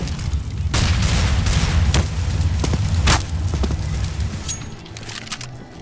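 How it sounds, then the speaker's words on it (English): Grenade and flashbang explosions in a shooter video game go off as a series of heavy booms and bursts, several loud blasts with rumbling tails over continuous noisy gameplay, fading toward the end. "Throwing smoke. Grenade out. Incendiary out. Throwing flashbang."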